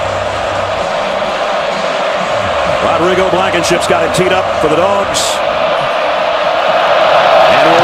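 A sellout stadium crowd at an Auburn Tigers home football game against the Georgia Bulldogs keeps up a steady roar and cheer, loud and continuous behind a commentator's voice.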